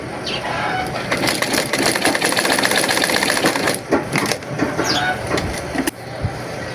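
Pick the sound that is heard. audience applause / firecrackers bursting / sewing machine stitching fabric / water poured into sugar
sewing machine stitching fabric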